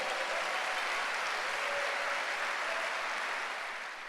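A church congregation at a gathering applauds, a dense, even, sustained roar of many hands clapping close and loud, tapering slightly at the end with no voices over it.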